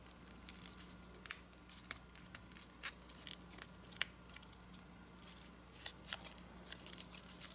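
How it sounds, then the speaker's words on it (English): Paper is creased and folded for an origami dragon, producing close, faint crackles and crisp little snaps scattered irregularly over a quiet background. "let's fold this to here, and let's fold this to here"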